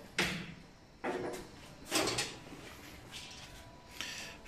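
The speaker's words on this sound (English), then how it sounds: "open the door." A door on a new Micron smart vending machine is opened, giving a few quiet clunks and rattles spaced about a second apart, with no one talking.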